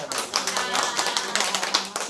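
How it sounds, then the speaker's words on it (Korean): A seated audience claps to welcome a lecturer at a talk on understanding the MZ generation, a dense, steady patter of many hands that fills the whole moment without pause. "박수로"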